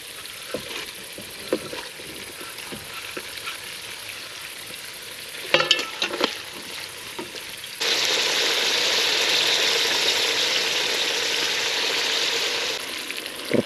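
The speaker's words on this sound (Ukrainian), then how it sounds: "Сальце трохи витопилось, додаємо м'ясо. І теж його гарненько обжарюємо." Meat sizzling as it fries in rendered pork fat in a pan at a riverside campsite, a steady hiss that swells loud midway, with a few scrapes and clinks of stirring.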